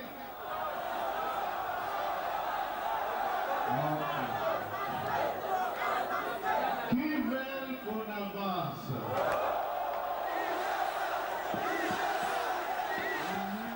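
A large crowd shouts and chants together in a loud, continuous roar during unrest around the fall of Mobutu, with a voice speaking over the din at times.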